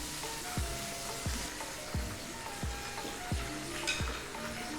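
Paneer cubes fry crisp in hot oil with a steady, dense sizzle, while a spoon stirs and knocks against the pan at regular intervals.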